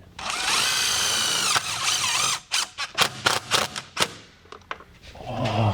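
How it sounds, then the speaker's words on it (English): A power drill bores into a car, first in a long steady whine, then in a series of short bursts and stutters, close and fairly loud, with a brief murmur afterward. "I drilled it in the wrong spot."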